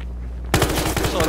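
Loud automatic gunfire in the shooter game Battlefield Hardline bursts in suddenly after a steady low hum, a rapid close rattle of shots continuing to the end.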